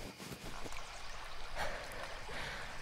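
A flowing stream for nature relaxation audio, a steady broadband rush and trickle of water with gurgling swells, continuous and fairly close, no voices.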